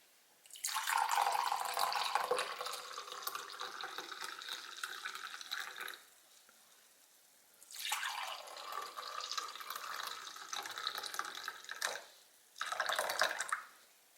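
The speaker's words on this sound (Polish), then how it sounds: "Do wysokich szklanek nalewam mleko." Warmed milk poured into tall glasses for Korean dalgona coffee, a steady liquid stream in three separate pours, the first long and the last brief, close and fairly quiet with no talk.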